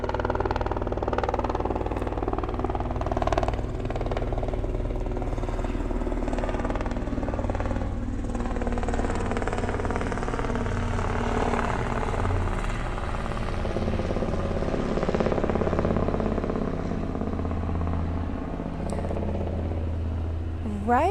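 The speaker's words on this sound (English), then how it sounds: "I have a helicopter flying overhead" A helicopter flies overhead, its steady rotor and engine drone filling the whole stretch at constant loudness, with faint talk now and then beneath it.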